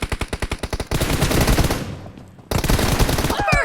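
Automatic gunfire in the battle royale game PUBG: a rapid, close burst of evenly spaced shots, then a denser roar of overlapping fire, a brief lull, and another loud volley.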